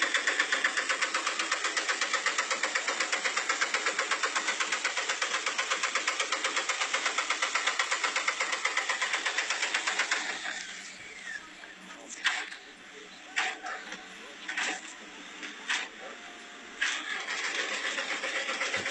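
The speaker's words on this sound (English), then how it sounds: "someone or something trying to turn on the bus engine" A mid-pitched bus engine runs steadily with a rhythmic knock, then cuts out into quieter sputtering bursts as it tries to turn over again.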